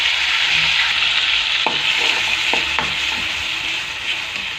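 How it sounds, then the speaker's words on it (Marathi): Masala paste sizzles in hot oil in a kadhai for vada pav, a loud steady frying hiss with a few sharp scraping stirs of a ladle partway through. "आता हा मसाला आपण मस्त फ्राय करून घ्यायचा"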